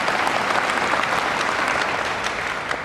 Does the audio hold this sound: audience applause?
yes